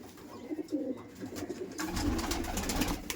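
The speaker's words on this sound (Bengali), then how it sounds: "দেখে রাখি, সমস্ত গিরিবাজ পায়রা" Giribaz pigeons coo softly and steadily nearby over a faint background hum, the murmuring calls growing denser in the second half with no talk.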